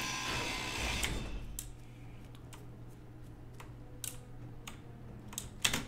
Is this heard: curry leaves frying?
no